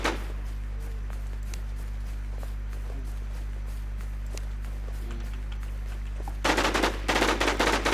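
Gunfire in the video game Warz AfterLifeZ: scattered single shots over a constant low hum, then a loud burst of rapid automatic fire near the end.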